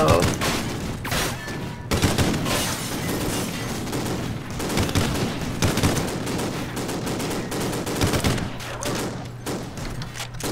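Rapid bursts of gunfire from Call of Duty: Ghosts, with repeated sharp shots and automatic fusillades close up over roughly ten seconds, dense and loud throughout.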